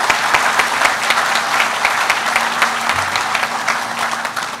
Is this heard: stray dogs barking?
no